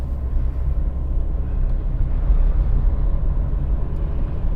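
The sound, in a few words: road traffic with trucks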